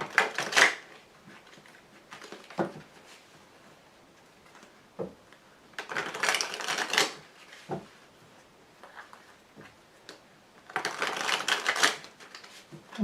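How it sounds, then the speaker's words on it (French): Tarot cards shuffled and laid out on a table, with three close bursts of crisp riffling. Softer taps and slides of cards being placed come between the bursts. "Alors maintenant, mettons les cartes support."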